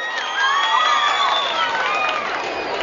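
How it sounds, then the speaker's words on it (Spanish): An audience at the 2014 beach queen election in Vinces cheers and shouts for a contestant, voices rising and staying lively throughout. "Y aplauso número 5."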